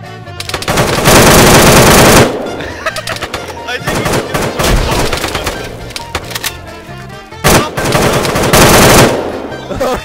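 Machine gun fire in the Arma 3 video game, loud rattling bursts that start and stop several times with short gaps between them.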